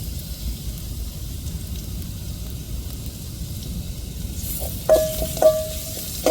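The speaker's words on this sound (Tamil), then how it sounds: "பூண்டை சேர்த்து நல்லா வதக்கி விட்டுட்டு" Steady sizzling of crushed garlic sautéing in a pan, a continuous hiss with a few brief clinks near the end.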